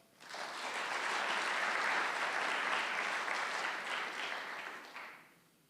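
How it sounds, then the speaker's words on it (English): Applause from an audience at a senior honors night awards ceremony swells quickly, holds as a dense wash of clapping and fades out after about five seconds. "Round of applause for Greg."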